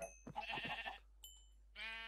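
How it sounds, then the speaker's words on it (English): Sheep bleat in the farming game Agrarian Skies: a close, wavering bleat, then a short faint tone, then a second bright bleat starting near the end. "Sheep, you stand in my way."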